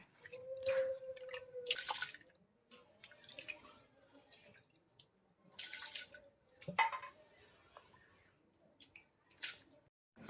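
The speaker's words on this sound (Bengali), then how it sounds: "তো চালটাকে দিয়ে দিচ্ছি গরম জলের ভিতরে" Rice pours into hot water for chicken biryani, giving wet splashes, drips and pouring sounds in intermittent bursts, close and moderately loud, with no talk.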